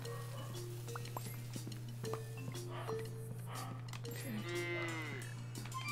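A cow moos in the cooking game Lemon Cake, one long drawn-out low moo near the end over a steady hum and light game sounds.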